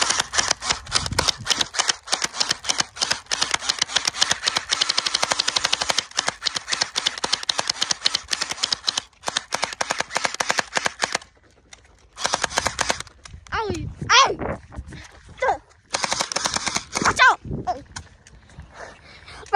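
Toy gel blasters firing during a backyard gel blaster war, dense rapid rattling bursts of shots for several seconds, then pauses and shorter bursts, close and loud, with people talking and shouting between volleys.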